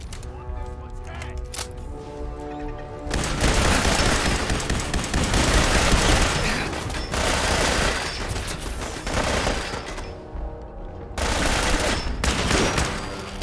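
Gunfire in the Fallout 4 video game, rapid bursts of shots that run loud and dense for roughly ten seconds after a quieter opening, with short gaps between volleys.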